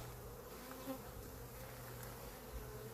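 Honeybees buzz steadily around an open hive, including large drones, a dense continuous drone of many insects close by with no talking.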